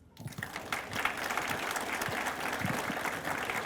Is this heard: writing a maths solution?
no